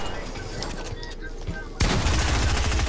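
Gunfire in the video game Fortnite: a dense, sustained volley of rapid shots erupts suddenly and loudly after a quieter stretch of game noise with faint clatter, continuing to the end.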